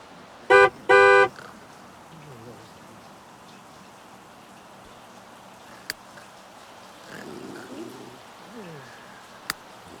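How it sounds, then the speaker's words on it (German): In The Sims 3, a car horn outside gives two short, loud honks near the start, followed by quiet ambience with a faint patter of rain and a couple of brief clicks. "Da draußen hupt's ja, warte mal."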